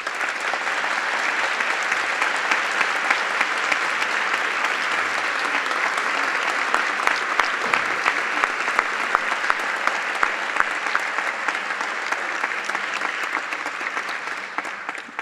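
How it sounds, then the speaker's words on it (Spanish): Sustained, dense applause from an audience at a university panel event in La Plata, Argentina, a steady even roar of many hands clapping that holds for about fifteen seconds with no talk over it. "los hijos de Andrés Carrasco, así que un fuerte aplauso"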